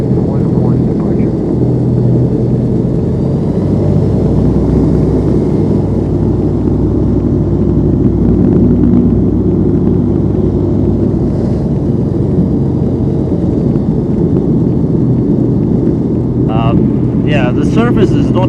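A small airplane taxis toward the runway on a rough surface, its engine a loud, steady close rumble with wind buffeting and voices talking over it.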